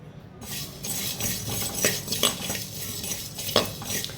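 Dry-roasting whole spices such as fenugreek, black pepper, cumin, coriander and fennel seeds in a pan, with a steady dry rattle and scraping interrupted by sharper utensil clinks against the metal, close and fairly loud, no voices.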